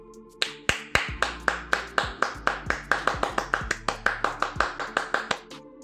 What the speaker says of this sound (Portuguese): Muitas palmas, galera.